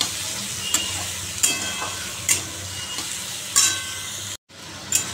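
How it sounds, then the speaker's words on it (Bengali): Fenugreek greens sizzle steadily in a hot pan, with a spoon stirring and scraping in several distinct strokes and a brief cutoff near the end. "এবার আস্তে আস্তে আমি শাকগুলো দিয়ে দেবো। এগুলো আরেকটু ভাজবো"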